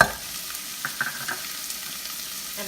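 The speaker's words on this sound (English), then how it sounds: "We're also going to add onion." Chopped onion and celery sizzle in a pot for shrimp perlo, a soft, steady frying hiss with a few light stirring clicks, fairly quiet and close, no voices.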